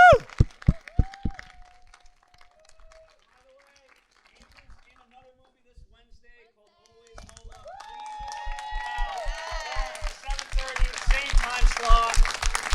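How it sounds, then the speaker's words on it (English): A few isolated claps fade into near silence. The audience at a film screening Q&A in Marina del Rey then breaks into swelling applause with cheers and whoops, growing louder toward the end while people talk. "Let's give one more round of applause."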